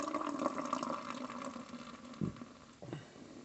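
St Austell Tribute beer poured gently into a glass, a soft, low gurgling flow close by that fades, followed by two brief splashes toward the end.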